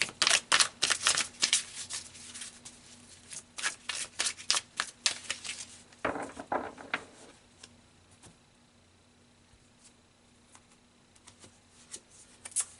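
Tarot cards being shuffled and drawn, a rapid papery riffling in close bursts that thins toward the end into a few soft handling sounds, with no one speaking.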